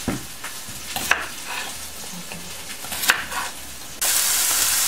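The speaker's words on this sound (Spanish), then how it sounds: "luego lo vamos a dorar por el otro lado" Chunks of pot roast beef browning in a hot pan, giving a steady sizzle with a few sharp stirring scrapes and pops, turning into a louder, brighter spitting hiss near the end.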